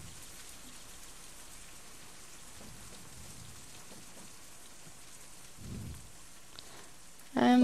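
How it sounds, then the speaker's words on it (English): Heavy rain falls in a survival hunting video game, heard as a steady, soft hiss of rainfall that stays even throughout and ends with a sudden louder noise at the very end. "At first you hear really loud rain and right then you hear nothing."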